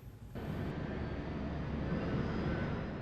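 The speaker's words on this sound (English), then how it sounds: "It has taken a test flight in the United States, it has broken the sound barrier, and it has become the world's first independently developed supersonic jet" Boom Supersonic XB-1 supersonic jet in flight during a test flight in the United States, heard as a steady, loud broadband roar that swells in within the first half second and holds unbroken to the end.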